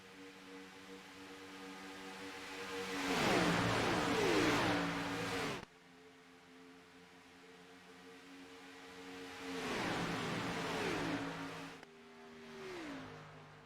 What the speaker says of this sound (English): You heard there the engine roar of one of the lap down cars.